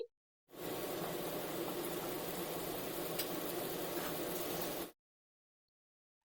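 Okra sautéed in a pan with spices for a vegetarian Bengali bhindi dish gives a steady, soft sizzle with light stirring scrapes, continuous and close, stopping abruptly before the end.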